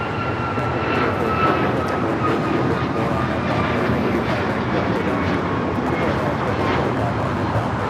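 United Airlines Boeing 737 MAX 9 on its takeoff roll at Los Angeles International, bound for Orlando: a continuous loud jet roar with a thin whining tone riding on top, and voices talking faintly beneath.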